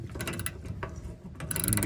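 A ratchet clicks in short bursts while loosening the undercarriage bolts on a 2006 Toyota 4Runner during an oil change, with quick metallic ticking and brief pauses between strokes.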